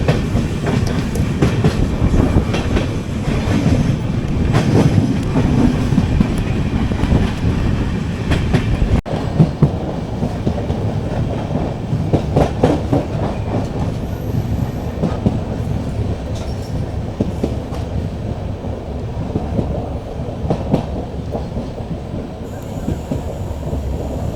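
Rolling rumble of a passenger train running toward Ernakulam, steady broadband clatter with occasional rail clicks, loud and continuous throughout with no talk.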